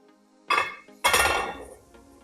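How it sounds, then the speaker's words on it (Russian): A frying pan is set down onto a Vesuvius KZ-14 cast iron stove, two clanging metallic impacts close by, the second ringing out and slowly fading. "Ставим сковородку"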